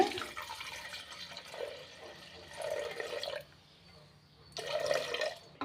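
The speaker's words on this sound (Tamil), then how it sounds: "இந்த தேங்காய் பால் கட்டியான தேங்காய் பால் ஆட் பண்ணிக்கோங்க" Thick coconut milk pours into a mixer jar for a sweet coconut rice cake, a soft liquid splash in two bursts with a quiet gap between, close by and moderately loud, no talking.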